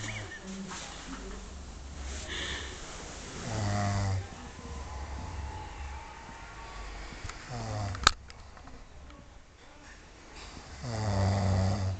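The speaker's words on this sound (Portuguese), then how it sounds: "E ele continua roncando." A man snores while asleep, slow rough inhalations rising and falling in a steady rhythm, fairly faint and close, with a sharp click partway through and low room noise.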